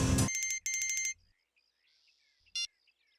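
A phone rings with an incoming call from a wife: loud electronic ringtone bursts in two quick rings, then quiet, then another brief chirp, close and with no talking.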